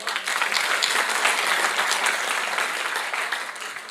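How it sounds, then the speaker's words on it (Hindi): Loud, steady audience applause fills a seminar hall at an agricultural cooperative event, dense and continuous throughout with no voices standing out. "जोरदार तालियां हो जाए बस।"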